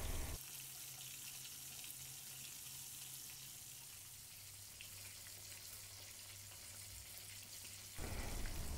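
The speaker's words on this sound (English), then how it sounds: "Let the pork ribs undisturbed for 3 minutes, then flip over to deep fry the other side." Pork ribs deep fry in oil, a dense even hiss of bubbling fat close by, steady throughout with a low hum underneath and no talk.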